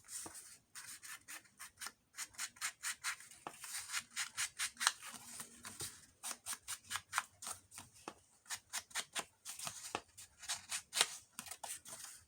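Scissors snip repeatedly through an old book page, a steady run of short, crisp cuts coming in quick bursts with brief pauses between, close and fairly quiet with no talking.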